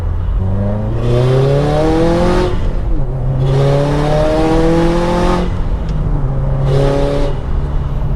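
A turbocharged 2015 Subaru WRX STI engine revs hard three times past 4,000 RPM at full boost, each pull climbing sharply in pitch before easing off, loud and close.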